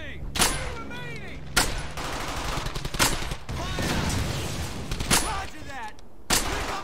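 Gunfire in the World War II shooter Brothers in Arms: Hell's Highway: loud, sharp shots and short bursts crack out repeatedly at irregular intervals, with shouted squad voices and battlefield noise in between.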